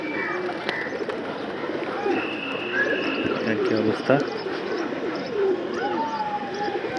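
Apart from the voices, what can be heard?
pigeons cooing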